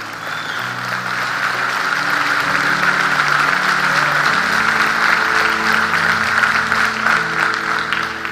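A church congregation claps together in a loud, sustained wave of applause, with a low sustained musical tone underneath throughout.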